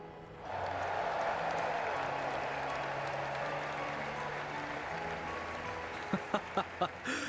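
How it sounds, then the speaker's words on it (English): Sustained applause from a large crowd at a tournament in the video game Trails in the Sky, a steady wash of clapping that holds for several seconds, with a few sharp louder hits near the end. "let us shower these victors with thunderous applause."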